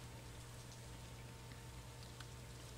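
In the farming video game Stardew Valley, rain falls as a soft, steady patter with a few faint droplet ticks. The rain is quiet and continuous, with no talking.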